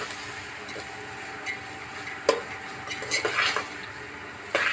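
Spices are stirred into a rustic village-style cluster bean curry in a pan: a soft frying hiss runs throughout, with scattered scraping and clinking of a spoon against the pan.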